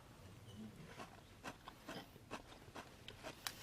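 Close crunchy chewing of seasoned Korean radish salad (mu-saengchae), a string of soft crisp bites over a faint background hush, with no talk.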